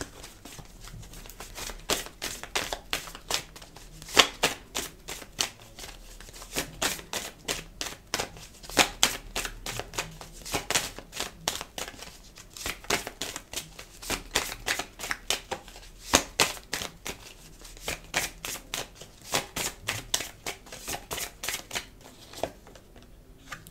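Tarot cards being shuffled during a reading: a steady run of crisp, rapid riffling bursts and soft flutters, close and fairly quiet, continuing throughout with no talk.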